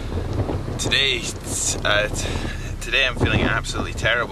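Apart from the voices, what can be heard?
strong wind blowing on microphone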